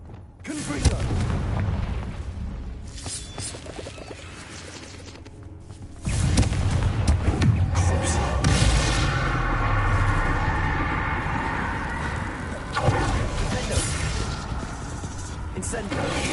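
Confringo fire-blast spells burst in Hogwarts Legacy, heavy booming explosions with rumbling tails, one surging in sharply partway through and others following, mixed under a spoken voice and game sound.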